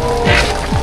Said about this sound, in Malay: Hari ni hujan guys